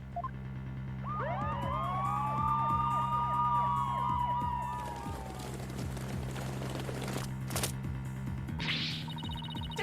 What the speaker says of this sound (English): Mr. Wright, there are police cars outside. Not just one or two, but a whole bunch.